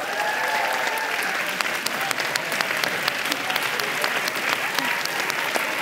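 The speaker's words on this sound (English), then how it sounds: "Please give a warm round of applause to the President of the European Parliament" A conference audience applauds to welcome European Parliament President Roberta Metsola, a steady, even burst of clapping throughout with no break.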